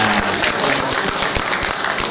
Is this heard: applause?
yes